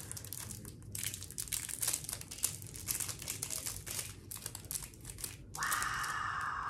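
Crinkly plastic coating peeled and crumpled off a 1930s Schaefer flat top vintage fountain pen, a close run of dry crackles and rustles, with a brighter, steadier scratchy rasp near the end.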